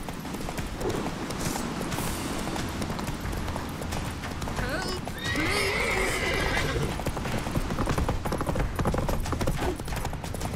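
Geralt's horse Roach gallops in the video game The Witcher 3, a steady, close drumming of hooves throughout with a loud neigh partway through, over game noise and voices.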